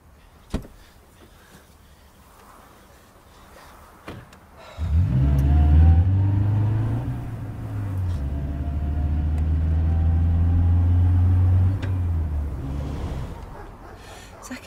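After a quiet stretch with a door clunk, a car engine in a zombie comedy film roars to life and rumbles loudly as the car pulls away, with the revving swelling and holding close by.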